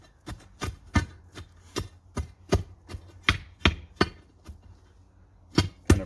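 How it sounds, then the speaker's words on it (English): A pry bar strikes rock in a post hole with a dozen or so sharp, dull thuds at an uneven pace, close and fairly loud, with no talk. "So now you just use your pry bar"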